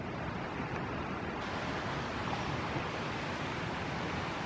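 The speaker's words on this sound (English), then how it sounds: "Hopefully it wasn't too loud for you guys back there. I know the waterfall and everything." A hidden waterfall in Kansas roars as a steady, dense rush of falling water, close and constant, with no voices.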